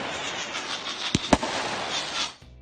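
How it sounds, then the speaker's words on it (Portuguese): Lightning strikes Fourth of July fireworks, giving two sharp, loud cracks in quick succession over a steady crackling hiss that cuts off abruptly near the end. "um raio realmente atingiu algo físico, um dos seus fogos de artifício"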